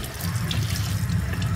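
Water pours steadily from a tap into a container, a continuous close gushing rush with no talk over it.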